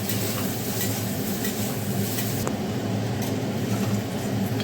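Eggplant pieces frying in a pan (kadai) for a fish curry, giving a steady, loud, continuous sizzle throughout with no talking.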